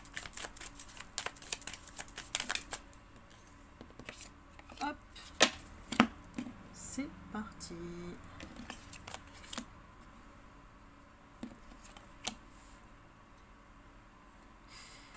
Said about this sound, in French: Je mélange les cartes et je prends la première qui tombe